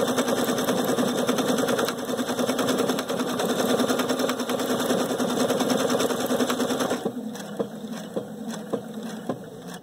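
A Viking Sapphire 930 sewing machine with a yarn foot runs steadily in a fast, even stitching whir, loud and close, easing to a lighter pace near the end.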